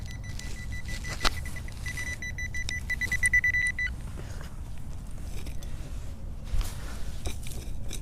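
A metal detector pinpointer gives a series of high, steady electronic beeps of varying length, close and fairly clear over outdoor rustling and scraping, with a few sharp clicks.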